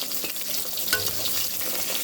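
Pieces of katla fish fry in a pan with a close, continuous sizzle and a few soft stirring scrapes, and no voices.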